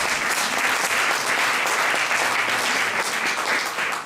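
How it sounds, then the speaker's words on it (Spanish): Steady audience applause fills the room at a talk on the slavery legacy in the Basque Country, dense and even throughout with no pauses and no voices. "Aplausos."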